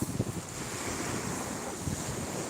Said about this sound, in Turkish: insan gelip burada dalganın sesine doyamıyor